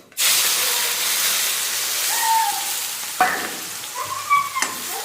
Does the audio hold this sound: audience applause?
no